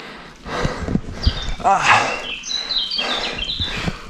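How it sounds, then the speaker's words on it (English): Birds chirp and tweet outdoors along a steep 28% road climb, with bright, high calls scattered through the clip over heavy breathing and movement noise from the climber. "The birds."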